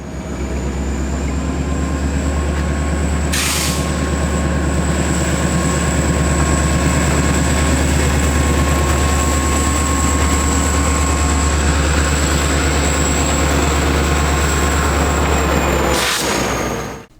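A heavy diesel locomotive, Southern #2601, a high hood GP30, rumbles steadily and loudly throughout, with a deep constant drone and a high whine above it.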